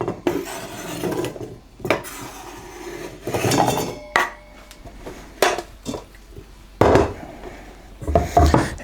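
Food for sweet potato leather is chopped on a wooden board and scooped into a bowl: irregular knife knocks and scraping rubs in uneven bursts, up close, with a few clinks and pauses between.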